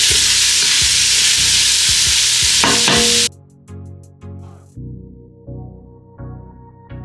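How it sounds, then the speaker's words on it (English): Onions sauté in a hot pan, giving a loud, close, steady sizzle for about three seconds. Then the sizzle drops away and several separate stirring scrapes follow at a regular pace. "I'm going to saute the onions"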